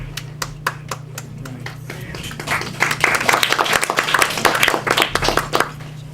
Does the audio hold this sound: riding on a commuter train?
no